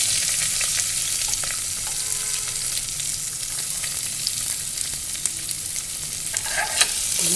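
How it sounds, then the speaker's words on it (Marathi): Onion and curry leaves frying in a pan for dal khichdi: a steady, close sizzle and hiss throughout with faint clicks of stirring, no talk. "आता आपण कांदा मस्त लालसर होईपर्यंत परतून घेतलेला आहे"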